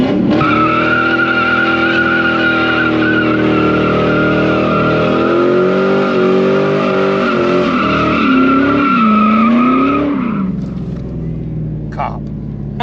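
WS6 with 4.10 gears doing a burnout, tires shrieking in a loud sustained squeal over a roaring engine that rises and bends in pitch for about ten seconds before cutting off, with brief voices afterward.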